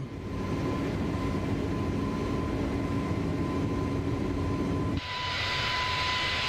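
Jet engines of an iniBuilds A321 in Microsoft Flight Simulator 2024 climbing out of Christchurch after takeoff, a steady loud roar with a constant whine that shifts abruptly near the end to a brighter, hissier tone.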